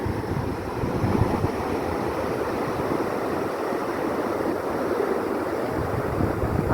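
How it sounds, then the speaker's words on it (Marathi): Sea waves roar continuously onto a long beach lined with casuarina trees, a dense, steady rushing surf with wind noise mixed in, with no voices over it. "आणि मागून तुम्ही ह्या समुद्राच्या लाटांचा गाज ऐकू शकता"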